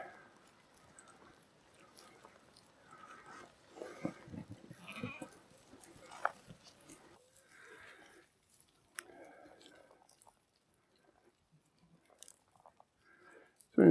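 A sheep bleats a few times on a Lake District footpath near Arthur's Pike, close and fairly quiet, with soft chewing and rustling between calls in an otherwise calm outdoor setting.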